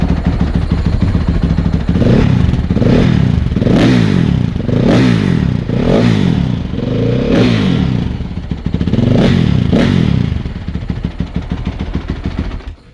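Warm motorcycle engine fitted with its stock exhaust, revved hard in a series of about seven rising and falling bursts from a loud idle, close and steady, with no talking.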